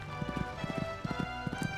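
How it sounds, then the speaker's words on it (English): Horse hooves clop in quick paired beats as a horse jumps around a course in the video game Horse Olympics, a rhythmic patter of clustered hoofbeats over a steady tonal game soundtrack. "This horse is really jumping well for her."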